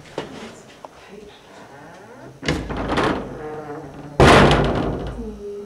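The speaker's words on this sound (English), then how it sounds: "It's like a it was the bathroom door? Yeah. Open it up and then close it the way you did." A bathroom door is opened and then closed. It gives a soft bump followed by two louder, heavier thuds, and the last one is sharp and resonant. A quiet room murmur sits underneath.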